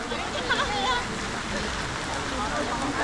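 Rain falls at Asakusa temple in Tokyo, a steady, dense hiss of drops on surfaces, with faint crowd voices murmuring underneath throughout.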